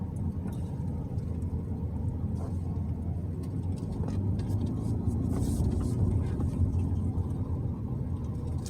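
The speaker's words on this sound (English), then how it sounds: "While we're driving, you can kind of get an idea of how it sounds." A 2021 MINI Countryman Cooper S on the move, heard from inside as a steady low engine and road rumble with faint ticks and rustles, continuous and moderately quiet.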